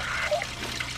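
Water gushes through a blocked drain that is being cleared with drain rods, a close, continuous trickling and pouring rush with no talk over it.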